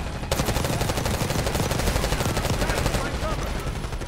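Rapid gunfire in the Black Ops 6 campaign hammers in a fast, even stream of loud shots across the whole stretch, close and dominant.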